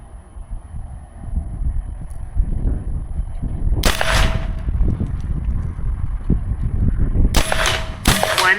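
Three sharp, loud shots from a Bintac S338 high-velocity semiautomatic big bore air rifle firing 66-grain pellets outdoors, one single then a quick two-shot burst over steady wind noise.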